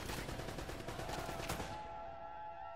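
Enemy gunfire in Uncharted: Drake's Fortune on PS4 rattles in rapid bursts of shots, fairly close, before tapering off into a ringing tail.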